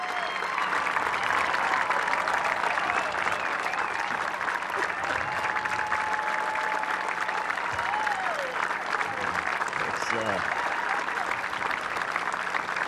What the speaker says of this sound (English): You have no idea what that applause did for me.